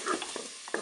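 Shrimp spaghetti with curry powder being stirred in a Cookeo multicooker, giving a few short soft scraping strokes over a faint sizzle, close by with no talking.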